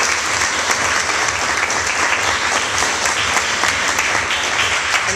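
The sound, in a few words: audience applause at graduation promotion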